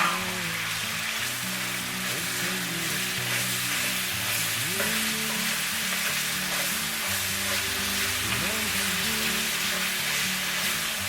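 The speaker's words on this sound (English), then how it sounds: "And now we're just gonna cook our bacon until it's done at your preferred doneness" Bacon sizzles with two tablespoons of garlic in a pan, a loud, continuous, close-up crackle with no talking over a low tonal background.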